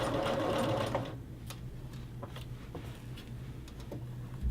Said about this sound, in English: So you baste it from center back to the front.